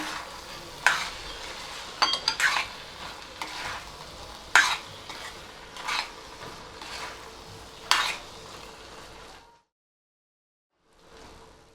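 Fried fruits being mixed into coconut milk rice in a pot, a spoon scraping and clanking against the metal in irregular strokes over a soft bubbling sizzle, then sudden quiet before a faint murmur returns.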